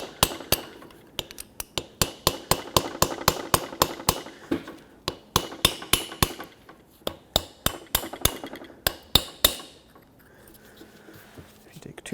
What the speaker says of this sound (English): I'm going to use a chisel bit and lift up this edge here